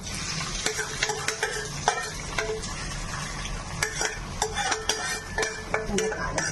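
Oil sizzles in a pan with a steady, close hiss while a spatula scrapes and clinks against the metal in irregular taps, with no voices.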